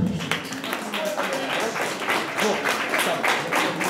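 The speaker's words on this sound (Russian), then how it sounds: "Аплодисменты." Guests at a celebratory party clap together in a steady rhythm, a series of loud, evenly spaced bursts of many hands, with some voices mixed in.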